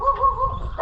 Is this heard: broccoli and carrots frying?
no